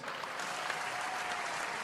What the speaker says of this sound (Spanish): Fuerte el aplauso para José Manjarres.